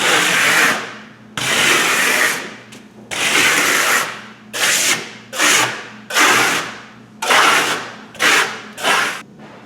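A trowel spreads eco stucco across a wall in long, rhythmic scraping strokes. About eight loud rasping passes come one after another, each separated by a brief pause.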